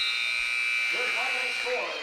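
A basketball game-end buzzer sounds in a gym as the final seconds run out, a long steady electronic tone that holds through the whole moment over crowd noise.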